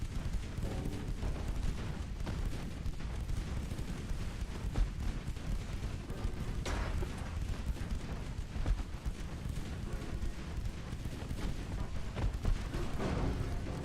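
Naval gunfire and shell impacts from warships in the game Ultimate Admiral Dreadnoughts, including 8-inch main belt penetrations: a dense, continuous rumble of distant booms and heavy salvos rolling on steadily with no talk.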